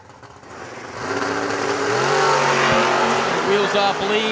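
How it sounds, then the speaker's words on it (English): A first-generation 1967 Chevrolet Camaro at a drag strip launches hard, its engine note swelling loud and steady beneath a race announcer's voice. "ndrew Omar now out of Chesterfield, Indiana, has that good-looking first-gen Camaro, 67 Chevrolet"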